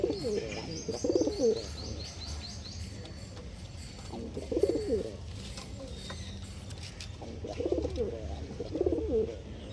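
Lambadi breed pigeons coo in repeated soft, throaty bursts at close range, with faint chirps and a light mechanical rattle in the background.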